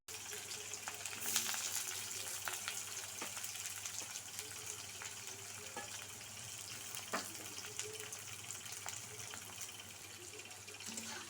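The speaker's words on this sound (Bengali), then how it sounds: "তেল গরম হয়ে গেছে, এখন পেঁয়াজটা দিয়ে দিব।" Onion frying in hot mustard oil with a pinch of salt makes a steady, soft sizzle with occasional small crackles and pops, close and continuous throughout.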